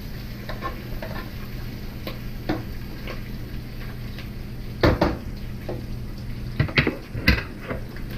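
Pepperoni (including Genoa) frying in a pan, with a steady low sizzle underneath and a few sharp clinks and scrapes of stirring utensils against the pan at scattered moments.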